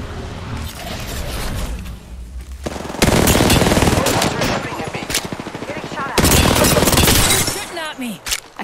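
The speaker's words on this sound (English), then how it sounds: "Opening fire on the enemy." Rapid automatic weapon gunfire in the Apex Legends video game, loud sustained bursts with short pauses between volleys, following a quieter stretch of ambient game sound.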